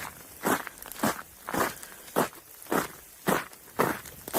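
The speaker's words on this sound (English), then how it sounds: "You can hear that crunch under his boots." Boots crunch over ice-glazed ground after a freezing-rain ice storm, about eight sharp, evenly spaced steps sounding close and loud with no voices.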